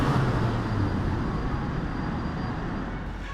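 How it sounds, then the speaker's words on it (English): CUPRA Ateca launching from a standstill under launch control, a steady loud engine roar with a low droning tone and a faint rising note, heard close and continuous, no talking. "the vehicle's onboard computer will assist the driver to accelerate with maximum power and traction from a standing start."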